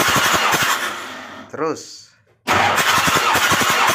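A Mitsubishi 6D14 diesel engine, just refitted with its injection pump, cranks with rapid rhythmic pulses, stalls briefly to near silence, then catches and runs loudly with heavy knocking, while voices speak over it.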